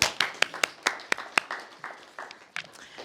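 Sparse clapping from a small audience at a housing information session, a handful of distinct claps in a loose, uneven rhythm that thins out and grows fainter toward the end.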